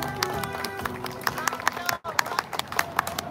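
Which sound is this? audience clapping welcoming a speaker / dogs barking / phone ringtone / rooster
audience clapping welcoming a speaker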